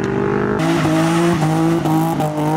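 A modified car passes at a car meet, its engine note swelling and shifting pitch as it goes by close and loud, with strong sustained revving and no talk.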